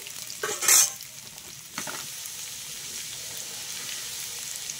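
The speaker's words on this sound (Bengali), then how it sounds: "কাঁচা লঙ্কাগুলো দিয়ে দিচ্ছি।" Vegetables for a Malabar spinach ghonto sizzling in a pan as slit green chillies are added, a sharp burst of sizzle early on, then a steady fry with a stirring scrape.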